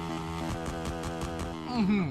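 A car engine in GTA San Andreas holds high revs against the rev limiter, giving a loud, pulsing stutter with regular cuts about every quarter second, and a brief tonal whine near the end.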